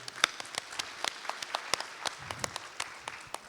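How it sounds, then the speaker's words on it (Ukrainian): An audience at a business talk claps for a participant from the crowd, a short burst of scattered, crisp handclaps at moderate distance with no voices over it. "Оплески Вікторії"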